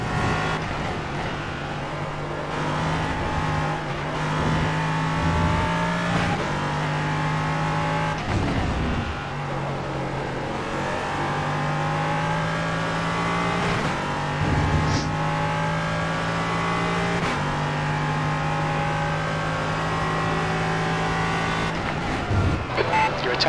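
An LMP3 prototype race car laps Donington Park in iRacing, its engine climbing through gears with repeated upshifts and braking dips. It holds steady and close, with a voice talking over it.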